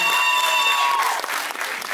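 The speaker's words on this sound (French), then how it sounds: "Sous vos applaudissements." An audience at a Lady and Lord Réunion pageant evening breaks into steady, dense applause that fills the hall and carries on throughout, loud and close, with a faint sustained tone behind it.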